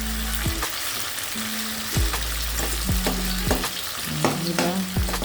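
Pork for sisig frying and sizzling steadily in a pan, with repeated clinks and scrapes of stirring over the continuous close, fairly loud crackle; no talking.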